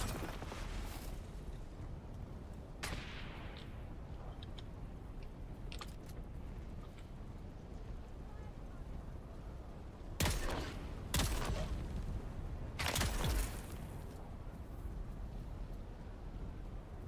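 A hand cannon in Dune Awakening fires a few sharp, fairly distant blasts, several spaced shots including a close pair, over a low ambient rumble with sparse other noises.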